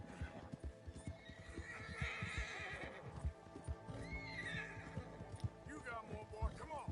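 A horse in the Red Dead Redemption II video game whinnies in drawn-out neighs over steady clip-clopping hooves, the calls rising and fading across the stretch with no talk.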